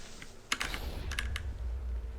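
A computer keyboard's W key is hammered repeatedly, a flurry of sharp, close clicks in quick succession, then rapid irregular taps over a low room hum.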